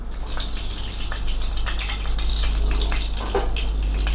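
Bay leaves, cinnamon pieces and lightly crushed cardamom hit hot ghee and mustard oil for a prawn malai curry, giving a continuous, close, bright sizzling hiss with crackles throughout and no voices.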